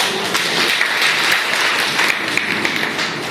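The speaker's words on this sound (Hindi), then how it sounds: "बहुत बहुत धन्यवाद सर, एक बार तालियां बजा दें।" A seminar audience in Bahraich, India, gives a steady round of applause at an RCM business event, a dense, even clapping wash that holds at the same level throughout with no talk over it.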